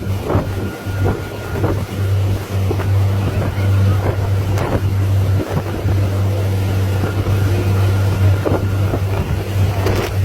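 A boat motoring across open water with a family aboard, its engine giving a steady low drone throughout, overlaid with wind buffeting and splashy hull noise.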